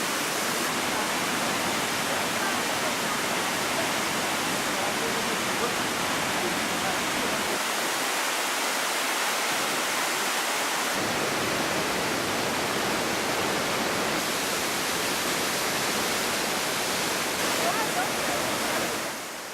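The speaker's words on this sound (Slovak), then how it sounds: "Hučiaca voda, kvapkami presýtené ovzdušie, ktoré nad jazerom vytvára dvojnásobnú dúhu" A waterfall in Morocco roars as it pours into a lake, a dense, unbroken rush of water heard up close and loud for the whole stretch.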